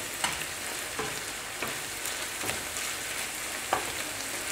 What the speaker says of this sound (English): And give that a bit of a stir through as well.